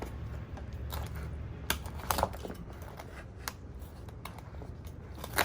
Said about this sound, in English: This is where you want to cut your lobster.